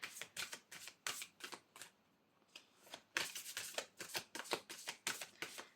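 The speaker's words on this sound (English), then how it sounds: "I'm going to pick you an oracle card now." Oracle cards being shuffled by hand, a quick series of crisp riffling bursts with a short pause in the middle before another rapid run, close and quiet.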